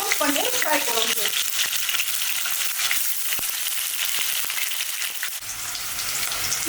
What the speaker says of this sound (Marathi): भाजी ही पनीर क्यूब्स आहे ना ती आपण अगदी नॉर्मल फ्राय करून घेऊ